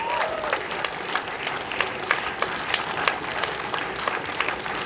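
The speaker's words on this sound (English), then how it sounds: "I think that we should give him another round of applause." Sustained applause fills a rally crowd at a peace demonstration in New York City, steady clapping with sharp individual claps standing out and a faint voice briefly audible at the start.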